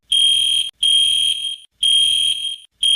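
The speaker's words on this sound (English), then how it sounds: "now we want to know who caused the fire alarm to go off" A fire alarm in an abandoned school blares in loud, piercing electronic beeps, each lasting under a second with short gaps between them, repeating steadily and close by.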